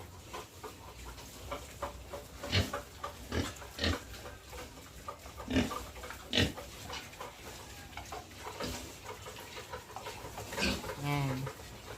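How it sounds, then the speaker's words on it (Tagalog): A farm pig grunts and squeals repeatedly at close range, with irregular bursts over a low steady background, and a few faint voices talk in the pen area. "Ma'am Loren, ito na po yung baboy nyo."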